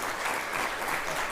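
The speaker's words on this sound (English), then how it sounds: "Didn't expect that clap" Brief burst of studio audience clapping on a TV talk show, many hands together at moderate loudness, steady and unbroken for a moment.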